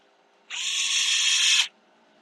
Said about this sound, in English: I'll just start these with the electric drill